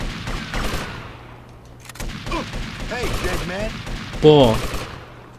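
Weapon fire in GTA Vice City Stories comes as bursts of shots mixed with game sounds, and someone talks over it with a short exclamation near the end.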